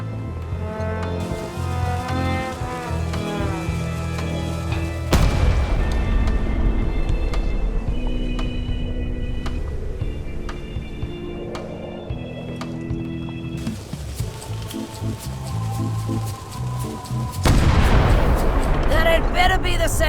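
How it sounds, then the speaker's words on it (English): Heavy booming cannon shots repeat over the Return to Monkey Island game soundtrack, with voices talking between the blasts. "Ready for cannon firing."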